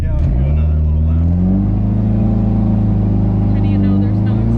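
A Dodge SRT-4 turbo car idles and pulls away on a short lap, its engine a loud, close, steady low rumble with a slight rise in pitch, and voices talk faintly underneath.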